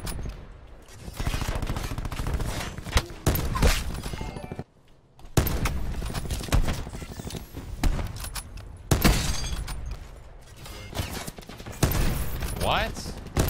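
Rapid gunfire from Call of Duty Black Ops 4 rings out in loud bursts and fusillades, broken by short pauses, with sharp impacts and a voice talking over the shooting.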